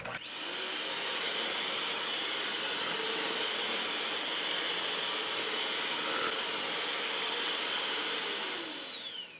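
An electric mixer beats simple cake batter, a loud steady whirring drone that spins up at the start, runs evenly for several seconds and then winds down near the end.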